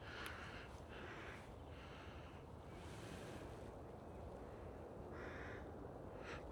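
Crows call with a few harsh caws from a veteran tree, set against steady wind and surf-like rushing noise that largely covers them.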